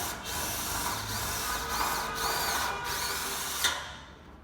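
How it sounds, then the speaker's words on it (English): A power drill drives screws into the stump top of a leave-in-place house jack, a steady close whirring drone that runs the full length with a few brief pulses and a sharp tick near the end. "We're just screwing this stump top back on to do a lateral strength test on it"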